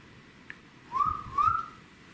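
A person whistles two short rising notes in a quiet old hospital building, the tones soft and close, separated by a brief pause with faint room hiss behind.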